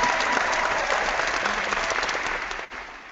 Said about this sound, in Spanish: para quien pide un fuertísimo aplauso